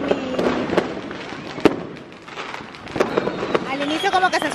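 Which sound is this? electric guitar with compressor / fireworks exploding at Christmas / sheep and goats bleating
fireworks exploding at Christmas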